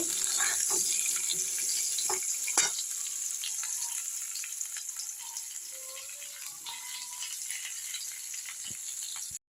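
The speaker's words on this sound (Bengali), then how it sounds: "কড়ার মধ্যে আবারও তেল দিয়ে দিয়েছি, দিয়ে এবার আলুগুলো আমি এর মধ্যে দিয়ে ভেজে নেব" Potatoes fry in oil in a wok: a constant bright hiss of bubbling oil, close and even, with light scrapes and clicks of stirring scattered through.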